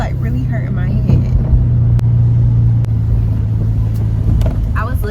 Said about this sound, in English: My car be so loud. It got like this big humming sound in the background of the video